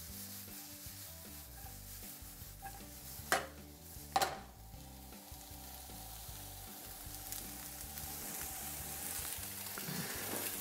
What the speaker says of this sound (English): I'm just gonna let these start to cook a little bit prior to putting the mushrooms in